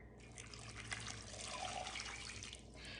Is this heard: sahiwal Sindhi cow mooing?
no